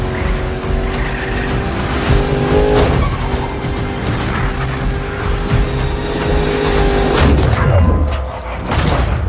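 Racing cars roar loudly through a video game chase, a continuous dense engine drone with skids and impact booms, game voices briefly audible underneath.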